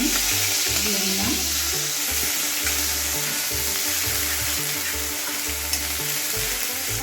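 Ginger, onion and garlic frying in oil for ilish biryani, a loud continuous sizzle held steady for the whole stretch, close up, with a low rhythmic background hum beneath it and no talk.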